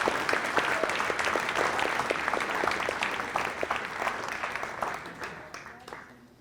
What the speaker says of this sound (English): let's give one more round of applause for all the JV guys